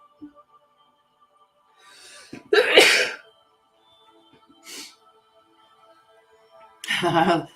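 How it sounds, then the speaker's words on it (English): A single sneeze, with a soft intake of breath before it, then a louder burst of noise a few seconds later in an otherwise quiet room. "I'm going to sneeze."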